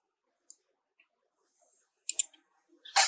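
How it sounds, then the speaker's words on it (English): Computer mouse double-click: two sharp close clicks in quick succession, followed by another brief click burst, with near silence otherwise. "So double click to open the script."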